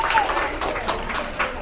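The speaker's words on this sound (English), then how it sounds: "Give yourself a round of applause on that one." A sports camp audience breaks into applause, a dense, steady wash of clapping from a crowd that holds at an even level with a slight swell near the end.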